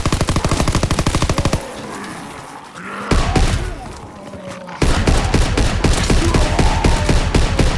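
Bechowiec SMG submachine gun firing in a WWII shooter game: loud, rapid full-auto bursts up close, a quieter pause midway, then sustained fire through to the end.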